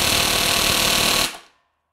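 Impact wrench hammering against an electronic Skidmore-Wilhelm T-3000 torque tester: a dense, continuous buzzing rattle of rapid impacts, loud and close, cutting off abruptly after about a second and a quarter.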